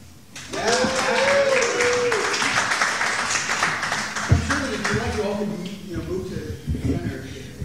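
An audience at a book reading applauds across the whole stretch, a dense wash of clapping with voices and cheers mixed in, and it thins toward the end.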